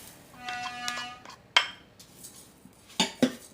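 A utensil scrapes and clinks against a bowl while grated coconut and sugar are stirred together for awug mutiara, with a few sharp knocks spaced out between quieter scraping.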